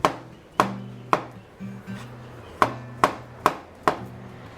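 A knife cuts an avocado into small cubes, landing seven sharp, evenly spaced chops on a cutting board, each a crisp close thud ringing briefly before the next.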